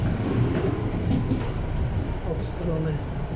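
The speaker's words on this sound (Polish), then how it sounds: "Naprzeciwka jedzie tramwaj numer 17 na Sępolno." Tram number 9 in Wrocław rumbles along its line beside Szczytnicki Park, a steady rolling drone and rattle heard from inside the car, constant and fairly loud throughout.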